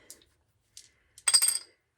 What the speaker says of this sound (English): let's roll the dice and see how many pulls I'll be doing in January